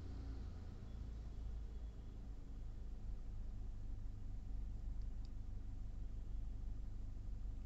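Toyota Glanza engine idling at low RPM after settling down, a steady low rumble that holds evenly throughout with no voices.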